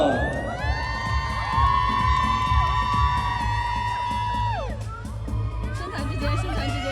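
A crowd at an awards show cheers loudly, with high shrieks and whoops rising above a dense hubbub that falls away briefly near the end before picking back up.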